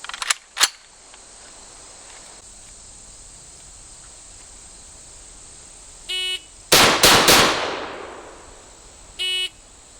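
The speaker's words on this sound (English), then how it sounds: "try 3 shots in 3 seconds from 3 yards with the 30 carbine, starting first off from the hip firing position" Three quick .30 carbine rifle shots fired from the hip outdoors, sharp loud cracks in close succession amid insect chirping, followed by a couple of faint clicks.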